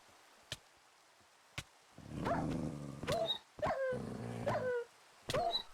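Wild dog growling in the modded Minecraft pack SevTech Ages, a few short snarling growls that come in separate bursts after two sharp clicks, loud and close with no talking over them.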